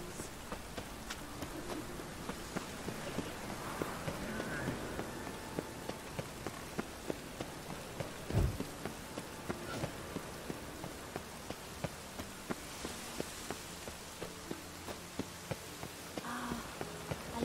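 Steady rain patters on surfaces in The Witcher 3: Wild Hunt, a soft continuous hiss with scattered drip ticks and a faint insect-like buzz, quiet and unbroken with no voices.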